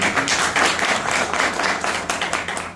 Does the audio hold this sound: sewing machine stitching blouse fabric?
no